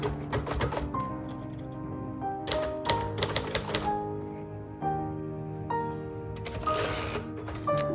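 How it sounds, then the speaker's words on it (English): Typing on a 1956 Royal Quiet Deluxe manual typewriter: irregular bursts of sharp key strikes and clacks, with clustered rapid hits and a few louder thunks from carriage or backspace, heard close over steady background music. "They just X out the word and then they type it again"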